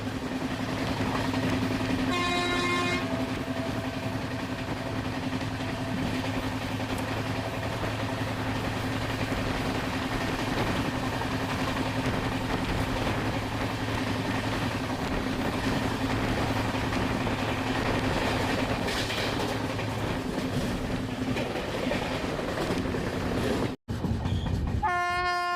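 A passenger train runs steadily through Shedbal railway station without stopping, its horn sounding near the start and again at the end over continuous rumble and rail noise.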